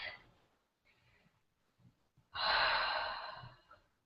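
A person draws a long, audible breath in a quiet room. Softer breaths and faint rustles come first, then one loud, drawn-out inhale that slowly fades.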